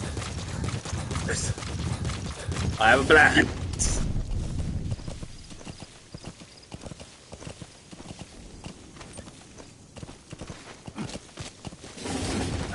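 Hooves of D-Horse, the horse in Metal Gear Solid V: The Phantom Pain, clip-clop in a steady trotting rhythm that is loudest early on and fades to a softer patter, while someone talks over it.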